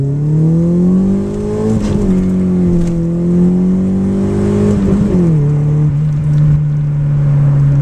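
A 1985 Honda CRX Si accelerates hard through second gear with wheelspin. The engine is loud and close and whines steadily upward, with short dips and roughness as the wheels slip, and no voices.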